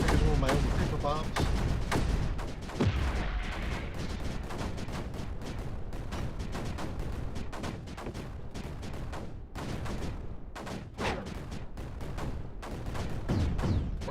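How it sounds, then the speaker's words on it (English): Creeper bombs in Creeper World 4 detonate in a dense run of repeated booming explosions and crackling bursts, a busy rapid barrage with someone talking over it. "Here's one of my own creeper bombs."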